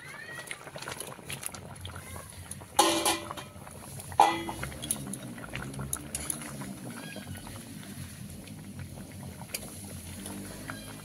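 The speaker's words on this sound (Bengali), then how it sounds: "বড় আলুর তরকারিটা ফুটে উঠেছে" A big pot of potato curry with fried loitta fish at a steady boil: close, continuous bubbling and gurgling with a couple of sharper pops, no talking.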